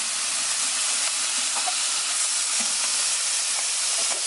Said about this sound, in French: Donc là on est en pleine plancha. Ça saute là, ça saute.